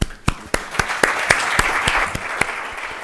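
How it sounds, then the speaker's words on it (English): Audience applause at a business leadership event on women in Kuwait and the Gulf, a steady wash of many hands clapping for three seconds with a few sharper claps standing out, no voices over it. "Let's give them one round of applause."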